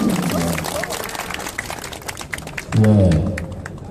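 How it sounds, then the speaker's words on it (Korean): A crowd at a Korean public gathering applauds an honored guest, a steady patter of many hands clapping with a voice speaking loudly over the start and end. "강성종 박사님께 뜨거운 박수 보내주시기 바랍니다"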